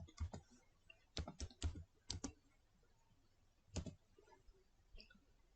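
Fingers tap on a laptop keyboard in a few quick bursts of sharp, close key clicks, separated by short pauses, with a final faint tap near the end.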